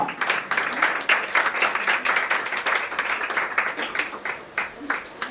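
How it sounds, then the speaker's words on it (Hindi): A congregation in an Indore prayer hall breaks into applause: steady, sustained clapping from many hands with individual sharp claps standing out, and voices calling out beneath it. "तालियां।"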